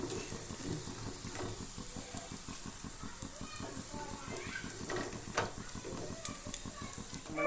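Banana flower pakoda frying in hot oil, a steady faint sizzle and hiss with a rapid bubbling texture throughout, while a person talks over it.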